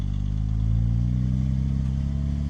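A Porsche 996 Turbo Cabriolet with a six-speed manual and an upgraded exhaust drones along on the move, its engine a deep, steady low rumble with a slight swell in revs, heard close and alone.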